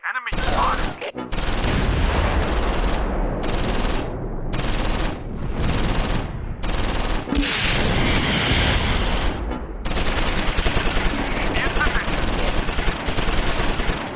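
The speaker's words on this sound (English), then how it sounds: "The Queen takes a shot at the Befehlspanzer" Dense, loud gunfire in a Close Combat 4 battle aimed at a German Befehlspanzer command tank, sustained rapid bursts of automatic fire with brief gaps, filling the whole stretch.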